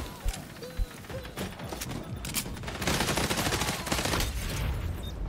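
Guns being tested in a video game fire in rapid, crackling bursts, a few sharp isolated shots at first, then dense sustained fire building through the second half, with faint speech in the background.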